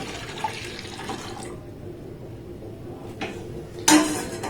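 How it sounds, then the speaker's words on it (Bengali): Liquid milk poured into a saucepan already holding a little water, a soft continuous splashing and trickling, fairly quiet, ending with a brief clink of the pan. "এবার এই লিকুইড দুধটাকে আমি সসপ্যানটার মধ্যে দিয়ে দেব"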